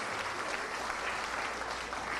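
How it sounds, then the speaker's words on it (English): A crowd at the El Dorado North Hindu School graduation ceremony for the class of 2015 applauds the award winners, a steady, even wash of many hands clapping at moderate loudness from a distance. "let's hear another round of applause for all those outstanding awards"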